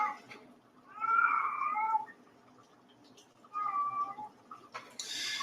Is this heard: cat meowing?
yes